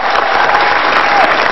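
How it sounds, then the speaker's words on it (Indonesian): Loud, dense clapping from an audience at a dialogue with presidential debate moderators, an unbroken roar of hands close and strong for the whole moment. "Sebelumnya tepuk tangan dong buat moderator."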